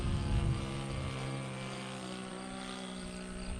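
The small engine of a Sig Kadet Senior model airplane drones steadily in flight at just under half throttle, a continuous buzzing hum at moderate distance.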